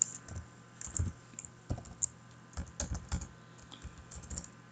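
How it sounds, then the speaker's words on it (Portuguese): Close, quiet typing on a computer keyboard, irregular bursts of clicking keystrokes with short pauses, no speech. "você ficar ouvindo tec-tec no teclado aí."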